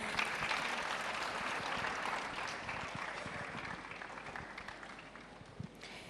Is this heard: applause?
yes